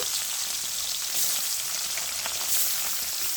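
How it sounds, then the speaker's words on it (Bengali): Tengra fish frying in hot oil in a pan, a steady, close crackling sizzle with dense spattering pops throughout and no voices. "তেলটা সম্পূর্ণ গরম হয়ে গেছে, মাছগুলো দিয়ে দিচ্ছি। মাছটা খুব সুন্দর করে ভেজে নেব।"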